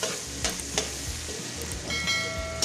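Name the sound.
onions sautéing in a pan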